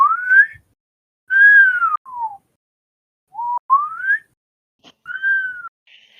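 A voice imitates an ascending slide whistle, giving several rising and falling whistled glides in short bursts separated by brief pauses, fairly clear and close with no other sound.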